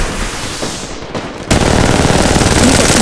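Machine gun fire in the mobile battle royale Apex Legends Mobile. Sparse distant shots are followed by a sudden loud, sustained stream of rapid close bursts.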